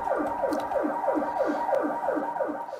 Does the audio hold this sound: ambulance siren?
yes